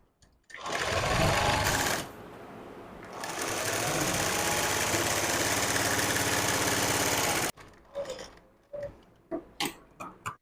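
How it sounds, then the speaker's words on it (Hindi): A sewing machine runs close by, stitching a blouse hook strip with a half-inch margin. It whirs in a long continuous burst with a brief slowdown, then stops and gives way to a few sharp handling clicks and taps. "इस तरीके से इसमें 1/2 इंच का मार्जिन देते हुए सिलाई लगा देंगे।"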